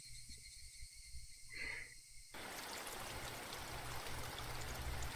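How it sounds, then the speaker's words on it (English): Flowing water ambience from the game Higurashi, a steady rushing stream that comes in after a quieter stretch holding a brief tone and then fills the rest, loud and continuous. "Oh, I like water sounds."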